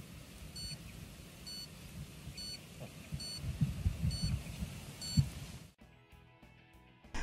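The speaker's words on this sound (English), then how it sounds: "the audible alarm begins to sound." A Soeks 112 Geiger counter's radiation alarm beeps in a steady, regular rhythm, six evenly spaced electronic tones over low rumbling handling noise, then stops.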